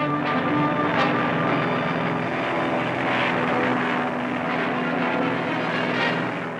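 A military helicopter flies over a jungle base in Vietnam, delivering ammunition and supplies, heard as a loud, steady engine drone with a persistent low hum in an old newsreel recording, without talk.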